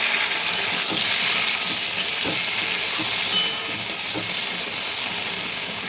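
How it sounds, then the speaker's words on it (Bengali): Chopped tomato frying in hot oil with five-spice seed seasoning for a tomato chutney, giving a dense, even sizzle close by with occasional light scrapes and clicks of stirring. "টমেটোটা ঢেলে দিলাম, এবার এটাকে ভাজবো।"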